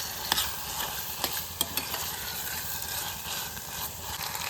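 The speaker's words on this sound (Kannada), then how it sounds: "ಈ ಚಿಕನ್ನು ಒಗ್ಗರಣೆಯಲ್ಲೆಲ್ಲ ಚೆನ್ನಾಗಿ ಫ್ರೈ ಮಾಡ್ಕೋಬೇಕು ಚಿಕನ್ನ" Chicken pieces fry in tempering oil for a bachelor-style chicken biryani, a steady close sizzle broken by a few sharp scraping knocks of a spoon stirring the pan.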